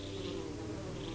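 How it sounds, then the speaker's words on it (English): Steady, close insect buzzing from wasps in Metroid Prime Remastered, a continuous droning hum with no pauses and no voices. "If I turn up on these wasps"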